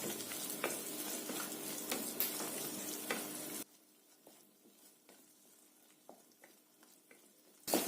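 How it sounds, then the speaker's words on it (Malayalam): Grated coconut being stirred and sautéed in a pan for fish curry: steady frying sizzle with repeated spoon scrapes, loud at first and then much quieter with scattered stirring clicks. "ഇനി ഇളക്കി കൊടുത്തുകൊണ്ടേ ഇരിക്കണം, അല്ലെങ്കിൽ അടുക്കി പിടിക്കും"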